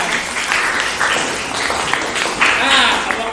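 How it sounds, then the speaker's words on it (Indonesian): Students in a classroom applaud a group, dense clapping heard alongside voices and chatter, with some raised shouts toward the end. "Oke, kasih tepuk tangan."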